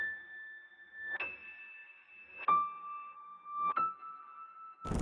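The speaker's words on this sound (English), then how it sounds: "it's pretty much just a reverse piano that sounds like this" Reversed piano notes from the Weird Dreams preset in Drip swell up in four bell-like tones, each cutting off sharply at its peak, clean and alone, with a burst of noise at the very end.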